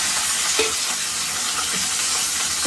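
Small onions, shallots, fry in a pan and are stirred, giving a loud continuous sizzle and hiss close to the listener, with a few soft scrapes and no talking.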